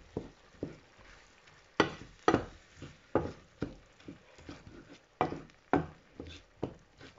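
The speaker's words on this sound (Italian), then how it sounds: "E mescoliamo per almeno 5 minutini. Magari Abbassiamo leggermente la fiamma. Andiamo un attimo a mescolare." Pumpkin risotto rice stirred in a pan, a spoon scraping and sizzling in irregular close strokes, roughly a dozen distinct scrapes with soft frying between them.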